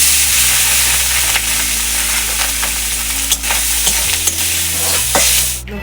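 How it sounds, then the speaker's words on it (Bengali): Freshwater snails coated with turmeric fry in hot oil in a pan, a loud, continuous sizzle broken by several sharp scraping stirs, with no voices over it. "দিয়ে এবার গেঁড়িগুলোকে একটু ভেজে নেব"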